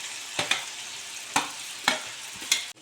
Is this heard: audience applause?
no